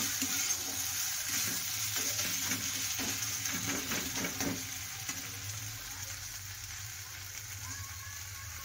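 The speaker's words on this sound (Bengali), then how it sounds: "সুন্দর মশলাটা পেঁয়াজের সাথে একদম সুন্দর কষিয়ে নেওয়া হচ্ছে" Spice paste and onions sautéing in a pan for a potol-chingri dish give a steady close sizzle and fry, with scraping stirs through the first half, and faint indistinct talk now and then.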